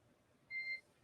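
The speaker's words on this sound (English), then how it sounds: "you'll be hearing those very characteristic beeps" A short two-tone radio communication beep on the Crew Dragon launch comms loop chirps once, faint and clean, over a low hiss of static.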